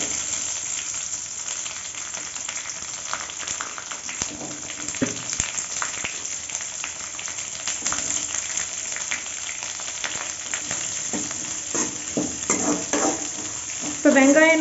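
Onions sautéing with dried red chillies in a pan for Kongunadu Pallipalayam chicken give a steady, moderate frying hiss throughout, with occasional utensil scrapes and a few brief clinks toward the end.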